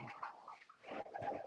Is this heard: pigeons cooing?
yes